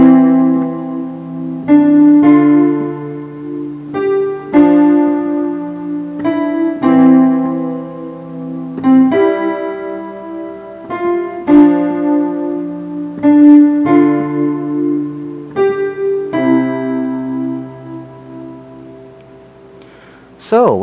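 Piano playing a slow two-hand exercise, one section at a time, with evenly spaced sustained chords and bass notes in a steady unhurried rhythm, heard alone at close range.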